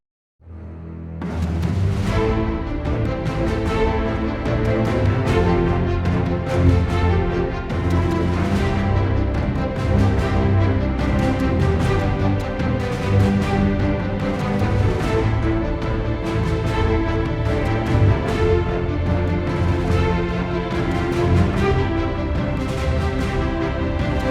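Orchestral track performed with the Berlin Strings sample library plus percussion, a full ensemble of strings playing continuously with rhythmic percussive hits recurring steadily throughout, fairly loud and without talking.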